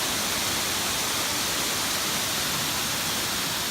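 A waterfall in the Black Forest, a continuous broad rushing roar of falling water, steady and unbroken throughout, with no voices.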